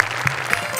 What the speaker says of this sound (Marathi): टाळ्या टाळ्या वाजवा